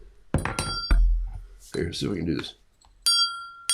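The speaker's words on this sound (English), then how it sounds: "The little bell rang" An improvised bell, made from a discarded object, rings once with a bright, clear tone near the end, after a stretch of close talking.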